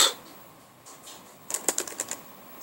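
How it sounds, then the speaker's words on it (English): Clicky keys on a computer keyboard typed in a quick burst of about eight strokes near the end, preceded by a fainter tap or two, close by with no talking. "I just started typing random shit."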